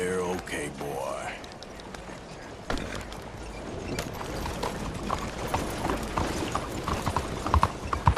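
A horse in the game Red Dead Redemption 2 trots under its rider, with steady rhythmic hoof clip-clops throughout that grow sharper and louder toward the end, beneath occasional game sounds.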